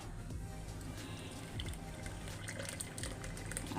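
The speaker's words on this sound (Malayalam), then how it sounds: "ഇത് ഇങ്ങനെ അരിച്ച് മാറ്റിയിട്ട് ഒരു പാത്രത്തിലേക്ക് നന്നായിട്ട് അരിച്ച് മാറ്റുക" Juice is strained through a sieve into a vessel, giving a steady close liquid trickle and splash that runs without pause, with no talking.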